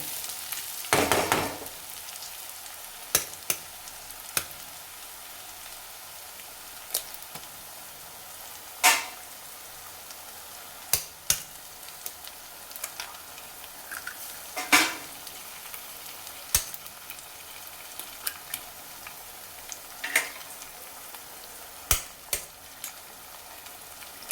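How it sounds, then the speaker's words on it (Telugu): Five beaten eggs frying in a pan with ginger garlic paste for anda bhurji, a steady low sizzle broken by repeated sharp scrapes and taps of a spoon stirring, close and alone without talk. "మనమైతే ఒక ఫైవ్ ఎగ్స్ కొట్టిపోసాం పోసాం కదా దీన్ని అయితే మంచిగా కలుపుకుందాం ఇప్పుడు"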